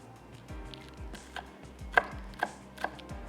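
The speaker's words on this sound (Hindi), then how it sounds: "ये हमने हरी मिर्चें चॉप कर ली" Knife chopping green chillies on a cutting board for baingan bharta, a series of soft, fairly quick cuts with three sharper, louder chops toward the end, close and alone with no talking.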